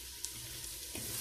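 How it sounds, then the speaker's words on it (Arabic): Tomatoes frying in a pan as a vegetarian potato and fennel stew is cooked, a soft steady sizzle with a light stirring scrape near the end, close and quiet with no talk. "يعني تقليه كالبصل"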